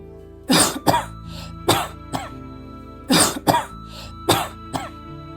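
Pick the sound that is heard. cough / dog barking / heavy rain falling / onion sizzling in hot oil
cough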